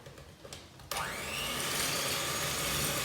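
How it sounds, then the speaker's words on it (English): A kitchen blender starts abruptly and whirs at a steady high pitch, blending milk, sugar and salt; brief handling noises come before the motor kicks in, and the loud whine holds to the end with no talking. "I'm going to blend that up"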